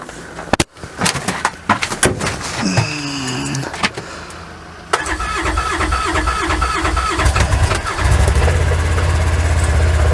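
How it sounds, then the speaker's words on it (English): A two-year-old Kubota RTV XT850 utility vehicle with a gas engine cold-starts at minus 30 Celsius: a few clicks and a cranking whir, then the engine catches and settles into a loud, steady idle close by. "we'll try a used RTV XT850, the sidekick here. It's 2 years old and a gas engine in it, so we'll give her a whirl"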